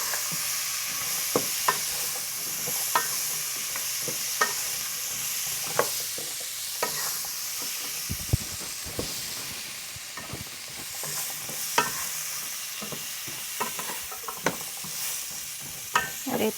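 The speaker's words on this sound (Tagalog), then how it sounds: "Then, haluin lang." Food frying in a pan on a home stove is stirred over a steady bright sizzle, with repeated soft scrapes and clicks of the utensil against the pan and no talking.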